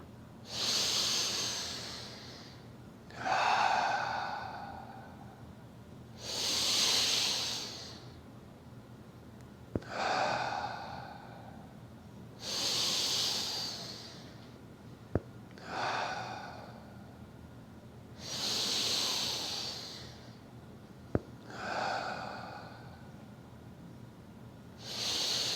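Deep, slow breathwork breathing with the spine moving, long audible inhales and exhales in a steady cycle of about eight full breaths, close and airy with faint hissing, plus a few soft clicks.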